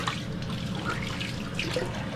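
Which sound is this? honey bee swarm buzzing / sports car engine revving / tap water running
tap water running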